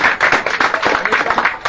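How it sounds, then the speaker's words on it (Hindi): An audience at a meeting claps in a brisk, rhythmic burst, loud and close, with individual hand strikes audible in quick succession. "एक बार जोरदार ताली।"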